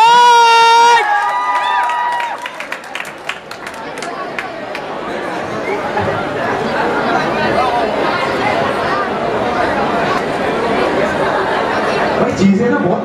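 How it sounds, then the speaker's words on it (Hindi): An audience at a Bhojpuri music show in Gorakhpur breaks into loud, sustained clapping and cheering close by, rising after a brief voice and a held tone at the start and continuing as a dense crowd wash. "इनके लिए प्लीज एक बार जोरदार ताली हो जाए"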